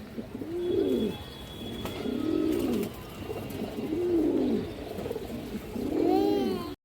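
Green-necked pigeons, a large old-line breed, coo in a steady series of about five rolling calls, each rising and falling, close by with faint chirps and clatter in the background.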